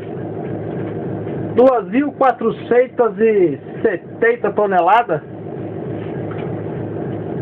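An SD70 diesel locomotive leads a loaded freight train in Itu, its low engine rumble steady throughout while someone talks over it in the middle.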